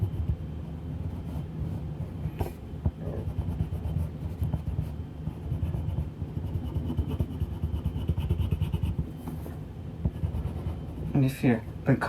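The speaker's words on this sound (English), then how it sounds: "you're noticing the pencil leaving a part of itself and breaking onto the paper" A colored pencil scratches steadily across paper, close and quiet, with a continuous rough, grainy rubbing texture during an art therapy session.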